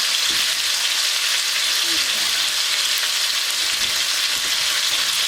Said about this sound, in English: we're going to put this in here and we're going to start browning it up